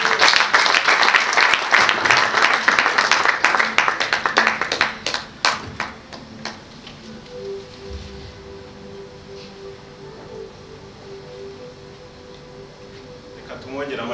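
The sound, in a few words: applause for a speaker in a church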